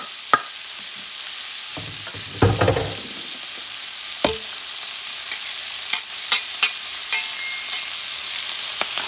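Chopped garlic frying in a pan for a leftover turkey paella, a quiet continuous sizzle broken by a brief scraping stir and several sharp clicks of a utensil against the pan.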